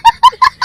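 Four short, loud, close clucks from a chicken, evenly spaced in quick succession, each a brief nasal, tonal call with nothing else around them.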